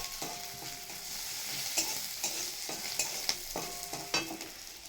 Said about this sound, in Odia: ଦେଖନ୍ତୁ ପିଆଜଟା ମୋର ଭାଜି ହେଇଗଲାଣି, ରସୁଣ ପିଆଜ ଭଲରେ।